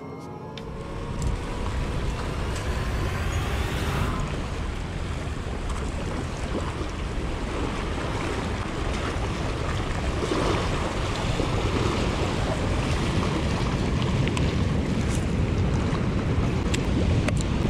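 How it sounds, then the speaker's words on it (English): Water gushes loudly through the Green River spillway tailwaters in Kentucky, a constant heavy roar with wind buffeting the microphone, steady and close for the whole stretch. "This is Spillway out here. As you can see, this water is gushing today."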